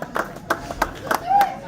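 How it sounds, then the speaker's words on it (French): Scattered clapping from a small metal-concert crowd, a few distinct claps at uneven intervals with voices over them. "J'aimerais qu'on applaudisse la double pédale flambant neuve."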